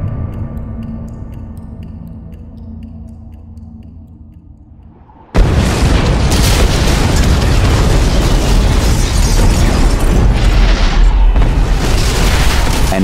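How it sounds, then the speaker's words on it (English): An explosion erupts in Gotham City at night: after a quiet stretch with faint ticking, a sudden ear-splitting blast gives way to a loud, sustained roaring rumble that fills the rest of the scene. "An ear-splitting explosion greeted Mary Marvel's return to the mortal plane."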